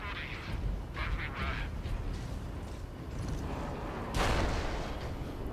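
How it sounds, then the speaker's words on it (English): Heavy bolter fire in the Warhammer 40,000: Space Marine video game, a few loud bursts with one sharp broadband blast near the end, over dense game noise. "I really love the way the heavy bolter sounds"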